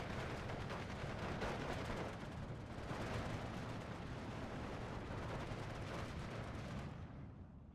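Battle sounds from the video game Steel Division 2: dense gunfire and explosions roll on without a break, with rumbling artillery booms under sharp bursts. The sound is loud and constant, then thins slightly near the end. No one speaks.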